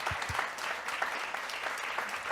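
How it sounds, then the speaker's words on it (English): Audience applause for the speaker MaryAnn McKibben Dana at a church family ministry event, with even, continuous clapping from a moderate crowd and a couple of low thumps near the start. "So let's give MaryAnn a round of applause."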